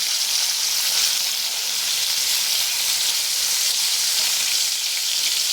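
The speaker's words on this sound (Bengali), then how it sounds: "আমি মাছগুলোকে ভালো করে ভেজে নিচ্ছি।" Steady, dense sizzling of snakehead fish frying in hot oil, loud and close, with a continuous crackling hiss throughout.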